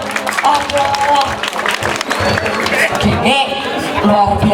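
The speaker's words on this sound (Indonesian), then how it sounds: "Sudah tepuk tangan untuk teman aku." An audience at a Balinese Calonarang performance claps steadily in a loud, continuous patter, with voices mixed in around the applause.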